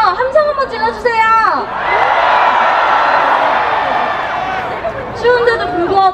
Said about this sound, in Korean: 함성 한번 질러주세요